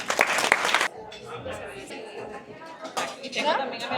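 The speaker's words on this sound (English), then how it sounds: "A beautiful round of applause." A short burst of loud applause from an audience opens the clip, then it gives way to a softer, murmuring room.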